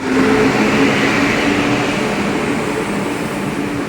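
A Kakinada Town–Lingampalli special hauled by a WAP electric locomotive rolls past at Nidadavolu, a loud, steady rumble of wheels and carriages that stays close and fades only slightly.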